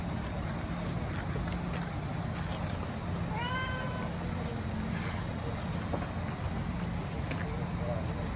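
A cat meows a few times in the middle of the clip, a short series of rising calls, moderately close, over a steady background hum with some faint speech-like noise.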